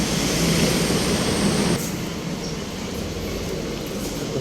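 A loud, steady rumble of an MRT metro train rolling along the rails, with broadband rail noise that drops slightly partway through. No voices.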